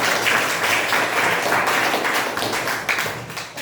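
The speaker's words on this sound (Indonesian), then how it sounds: "Mungkin yang lain bisa beri tepuk tangan kepada Ditya." A classroom at a vocational high school breaks into applause for a student, a dense, steady wash of many hands clapping close by for several seconds, tapering slightly toward the end with no speech over it.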